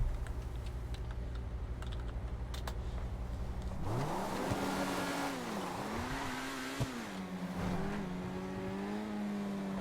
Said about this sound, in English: I'm gonna put a lot of miles on this car.